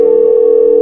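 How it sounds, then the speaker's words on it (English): Steady telephone dial tone heard when picking up to place a call, a loud continuous hum held evenly through the whole short moment with no talk over it. "which is when I decided to make a phone call"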